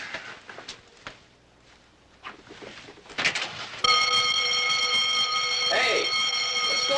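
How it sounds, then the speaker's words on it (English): Alarm buzzer sounding at a door, a loud steady electronic tone that cuts in abruptly after footsteps and scattered knocks and holds to the end, with a voice briefly over it. "What is this, some kind of a deadbeat alarm system so people can't walk out without paying their checks?"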